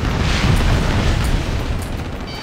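A loud, rumbling RPG explosion in the jet combat game Ace Combat: Assault Horizon, a broad booming roar that rolls on steadily for a couple of seconds with heavy low end.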